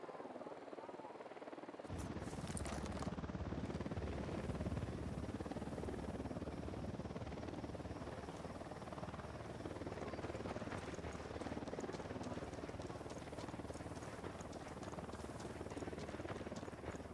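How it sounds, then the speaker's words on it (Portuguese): Helicopter in the video game Ghost Recon Wildlands, a loud steady rotor drone that starts abruptly and then holds continuous and near, with game chatter faintly over it. "Helicóptero da unidade, se abaixe."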